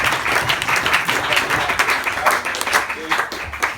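An audience gives a poet another round of applause, lively clapping that carries on throughout while a voice talks over it.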